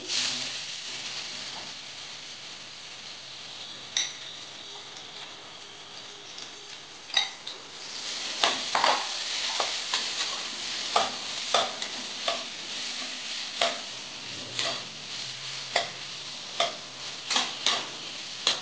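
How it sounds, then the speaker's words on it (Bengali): Smashed green olives with panch phoron frying in a pan give a constant hiss and sizzle, punctuated by repeated sharp spatula scrapes and taps against the pan that grow more frequent in the second half. "এবার এর মধ্যে আমি স্ম্যাশড জলপাইগুলো দিয়ে দিচ্ছি।"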